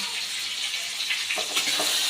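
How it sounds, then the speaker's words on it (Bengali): Food frying in a kadai (wok) makes a steady, close sizzling hiss, with a few soft stirring scrapes near the end and no voices. "একটু আরেকটু ফ্রাই করে নিই।"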